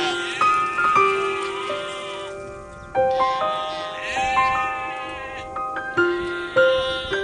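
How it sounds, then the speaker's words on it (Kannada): A flock of sheep and goats bleats in drought-hit Koppal, Karnataka, with several overlapping, wavering calls close by, some long and drawn out, repeating in clusters over about seven seconds. "ಹಾಗೋ ಹೀಗೋ ಕುರಿ ಮತ್ತು ಮೇಕೆಗಳು ಮುಂದೆ ಹೋದವು"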